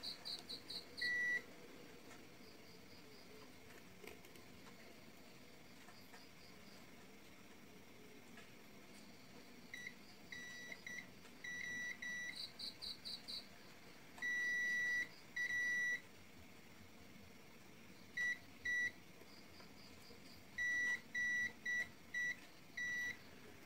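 A continuity-test buzzer beeps as a transformer winding is checked for contact with the core body. Soft, high, short beeps come in irregular clusters, some rapid and some spaced out, over a low background hum and hiss.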